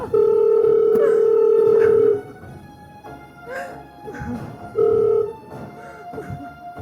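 A telephone sounds one long, steady electronic ring, then a shorter one a few seconds later, with voices and indoor bustle murmuring between the rings.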